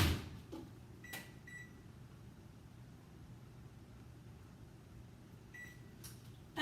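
An oven timer chirps through a few short, faint beeps as it is set, with a quiet humming kitchen in between and a louder knock at the very end.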